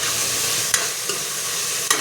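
Mustard-oil tempering (tadka) for a Punjabi turnip (shalgam) curry sizzles in a steady, close broadband hiss, with a few sharp pops and clinks of stirring. No one speaks.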